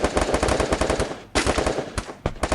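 Rapid automatic gunfire in the Free Fire video game during a big-head mode match, dense loud bursts with short pauses between them, close and punchy.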